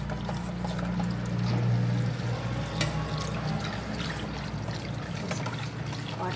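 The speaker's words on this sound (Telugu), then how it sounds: "కలిపేసి ఇప్పుడు వాటర్ వేసుకున్నామండి" Water is poured into a pot of tomato rasam made with tamarind paste, a steady splashing flow that swells midway and then settles into a softer stream, with no voices.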